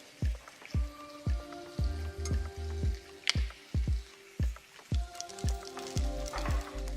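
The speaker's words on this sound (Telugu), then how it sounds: "నేను యాలక్కాయలు, లవంగాలు, షాజీరా వేసాను. అబ్బో చెట్టా పట్పట అంటున్నాయండి" Cardamom, cloves and shahi jeera pop and crackle in hot mustard oil, giving sharp, separate pops every half second or so over a faint sizzle, close by; no talking.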